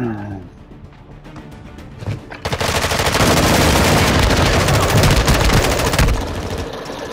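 Rapid automatic gunfire in Call of Duty: Modern Warfare II erupts after a quiet opening and rattles on loud and continuous for several seconds in a multiplayer match.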